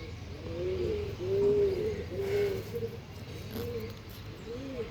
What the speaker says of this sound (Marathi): एवढेच कबूतर आहेत आपल्यासाठी